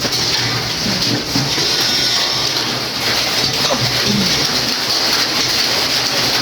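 Steady rain pouring down outdoors in June, a continuous loud hiss of falling water with no break and no voices.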